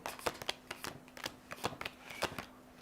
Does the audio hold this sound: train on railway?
no